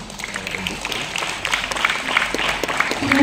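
Audience in an indoor hall applauding at an Indonesian animation event, a dense patter of clapping that builds slightly toward the end, with faint voices mixed in.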